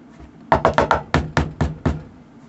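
Sharp knocking on a front door at night: eight firm raps in two quick groups, close and loud against a quiet room.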